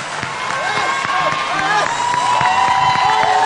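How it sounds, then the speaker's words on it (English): Church congregation clapping hands during a lively midweek service, steady crowd clapping with cheering and whoops mixed under continuous voices and background music. "Sit down, clap your hands for Jesus"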